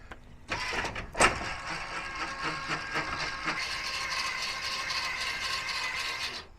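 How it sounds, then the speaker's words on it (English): The motor on an RV fifth wheel's rear landing gear runs to lower the gear. A sharp mechanical clunk comes first, then a steady grinding whir that holds at an even level until it cuts off. "Let's drop this gear down a little bit."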